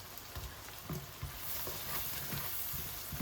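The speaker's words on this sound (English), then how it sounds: "so I'm going to add in the prawns, turn the heat up to high, and drop all those in, using my trusty old wok for this recipe" Prawns hitting a hot wok on high heat, a busy sizzle broken by soft thumps and stirring knocks as they are dropped in and tossed, moderately quiet and without talk.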